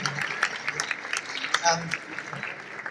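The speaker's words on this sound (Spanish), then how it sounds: "Un aplauso, por favor" A convention audience applauds during a Mexico conference with the C-3PO actor at La Mole 2024. The clapping is steady but moderate, with a speaking voice over it throughout.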